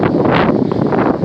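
Outdoor wind buffeting a microphone, a loud, rumbling, irregular rush of low noise over a short stretch.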